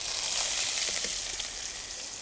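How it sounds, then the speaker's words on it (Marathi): Two chopped onions go into hot oil in a kadai, an Indian wok, and set off a loud, even sizzle. The steady frying hiss fills the whole moment without any voices. "तेल गरम झालंय कांदा टाकून घेऊ"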